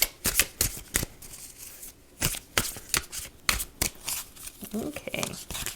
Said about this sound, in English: All right, just gonna shuffle. We're just gonna cut the deck a few times now.